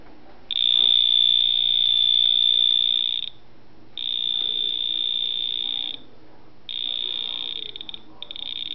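A K-II EMF meter modified for sound gives an electronic buzzing alarm tone in three long steady bursts separated by short gaps, high-pitched and loud over faint background noise, its speaker partly covered by tape.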